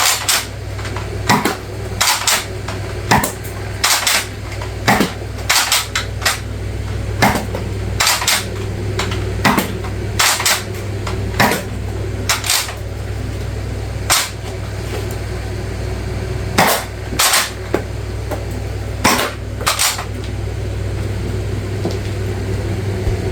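Repeated sharp clacks and pops from a Nerf Pinpoint blaster firing foam darts, close and loud at irregular intervals over a steady low hum.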